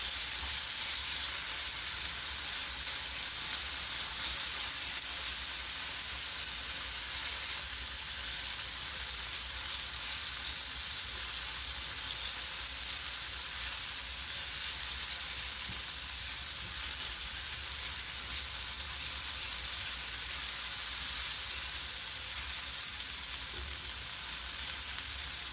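Ingredients fry in a pan for a Filipino fried corned beef breakfast, a steady, fairly quiet sizzle and crackle close by that carries on unbroken for the whole stretch, with no talking.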